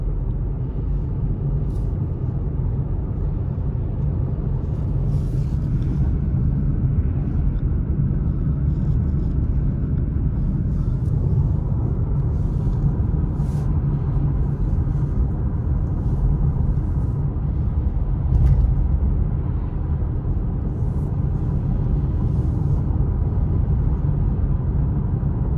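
Car driving up mountain Highway 38 toward Big Bear after a heavy snowfall, heard from inside as a steady low road rumble and engine drone, continuous and loud throughout with no talking.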